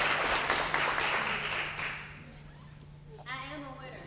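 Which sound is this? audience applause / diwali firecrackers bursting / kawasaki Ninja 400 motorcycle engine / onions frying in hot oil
audience applause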